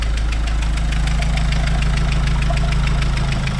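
A car engine runs after an engine swap with new injectors fitted, a loud, close, rhythmic mechanical drone that holds a steady speed throughout.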